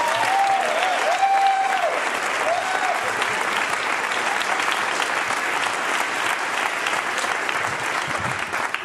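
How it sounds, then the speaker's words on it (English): A stand-up comedy audience gives loud, sustained applause, a thick continuous roar of clapping with a few faint cheers and whistles early on, steady throughout. "You cannot keep applauding."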